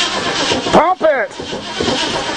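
A 1935 Mercedes, stored for seven years and with no spark, cranks without catching: a brief, loud starter churn with pulsing rhythm, mixed in with nearby voices and low engine-bay noise.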